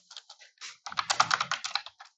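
Fast typing on a computer keyboard while filling in a seller support form: a light, sparse run of clicks that thickens into a dense, steady burst of keystrokes, close and clear with no talking.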